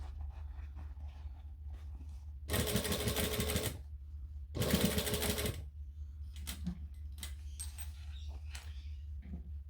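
A sewing machine back stitches a bag in two loud bursts of rapid stitching separated by a pause, followed by quieter handling clicks and rustles.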